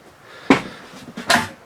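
A cabinet door beneath the kitchen sink of a 2021 Airstream International 27FBQ travel trailer is opened, giving two sharp, close knocks and clunks about a second apart.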